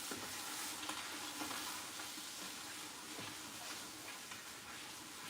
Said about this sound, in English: Now listen to these pops here. That is that sound we wanted.